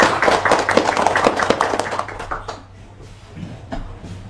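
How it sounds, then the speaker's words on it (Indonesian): An audience at a government meeting with housing developers claps in a loud burst that thins out into scattered claps. "tepuk tangan buat pengembangnya"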